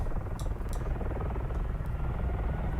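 A continuous, loud helicopter rotor drone in the flight simulator DCS World, with a steady low thumping rumble, broken by a few faint clicks.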